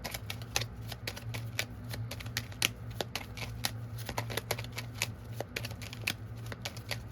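Tarot cards being shuffled by hand, a fast crisp run of riffling snaps and flicks repeating steadily over a low hum, near and fairly faint, with no voice.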